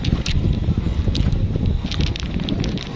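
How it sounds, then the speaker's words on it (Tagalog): Strong wind blows by the sea near a boat over clear water, a steady loud rush with low rumbling gusts throughout, plus a few brief higher bursts. "Medyo malakas lang po ang hangin natin"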